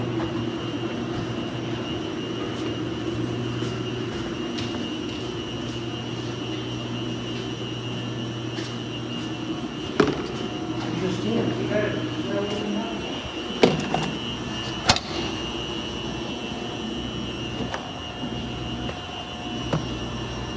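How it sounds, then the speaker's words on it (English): Self-serve laundromat washers in their final spin extraction cycle, a steady, loud whirring hum with a low drone, broken by a few sharp clunks and thumps near the end. "Get ready to run a spin cycle."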